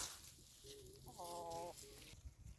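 An Isa Brown hen gives a drawn-out clucking call, short then longer and wavering, fairly faint over background rustling and noise.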